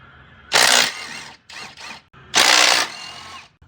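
An impact or ratchet tool backs out rear differential bolts on a Honda off-road vehicle: loud whirring bursts close by, with two short runs between two longer ones and a faint hum between bursts.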